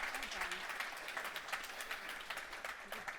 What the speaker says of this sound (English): I think a huge round of applause.